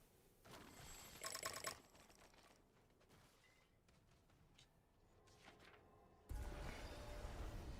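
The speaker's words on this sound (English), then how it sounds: "That's my new ringtone." A telephone ringtone chimes for a moment, a bright bell-like burst early on, followed by quieter scattered tones and then a sudden louder, noisier passage at the end, with no speech.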